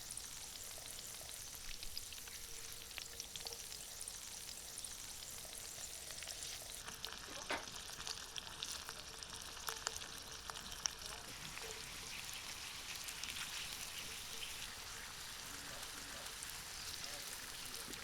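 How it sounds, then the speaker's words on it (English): Potatoes and mushrooms searing in rendered lard in a pan, a faint, continuous crackling sizzle with occasional small pops and scrapes, heard at low volume throughout. "Next, we sear the potatoes with the mushrooms."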